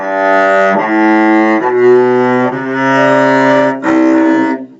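Sustained bowed cello notes played sharp and out of tune in first position, several in a row with slight breaks between, loud and close with no voices.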